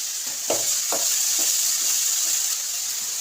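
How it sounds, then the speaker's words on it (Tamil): Intestines (kudal) sautéing in a pan with ginger garlic paste, giving a steady close sizzle with a handful of soft scraping stirs spaced through the stretch, no voices. "நல்லா வதக்கி வச்சுக்கணும் குடல் வேக வச்சுருக்க இஞ்சி பூண்டு பேஸ்ட்டு சேர்த்துருவோம்"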